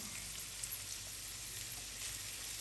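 Rice frying in a frying pan for Nigerian fried rice, a steady soft sizzle holding evenly throughout at low level, with no voices.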